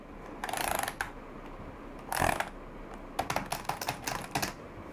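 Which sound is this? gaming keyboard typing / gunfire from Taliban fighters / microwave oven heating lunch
gaming keyboard typing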